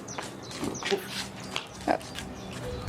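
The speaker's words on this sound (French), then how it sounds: "Mes chiens." Dogs snuffle, grunt and make small whimpering noises nearby in short, irregular bursts over a low indoor background.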